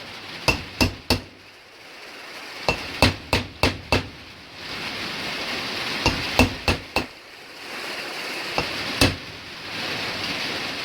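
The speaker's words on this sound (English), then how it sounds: "Grab the hammer. Couple of taps." Sharp metallic hammer taps on a rear wheel bearing of a Chevrolet Matiz, struck in quick clusters of three or four close, loud blows with short pauses between groups and faint outdoor noise behind.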